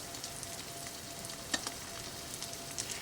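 An egg fries in a pan, with its yolk already broken on landing, giving a quiet, steady sizzle with a couple of faint clicks or taps.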